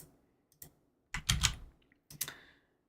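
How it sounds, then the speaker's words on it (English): Computer keyboard typing in a few short bursts of close, crisp key clicks with quiet pauses between them, heard alone. "It's time for clicks and keyboard ASMR."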